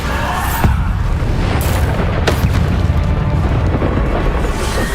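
Bombarda spell blasts in the Hogwarts Legacy video game, with several sharp bursts and booming impacts spread across a continuous bed of loud combat rumble, no voices over it.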